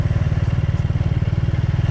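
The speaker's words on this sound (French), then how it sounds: "Regardez-moi tous ces scooters, c'est incroyable." Motor scooters pass in a steady, close stream through a Vietnamese street, their engines forming a loud, continuous pulsing buzz with no break for the full two seconds and no voices.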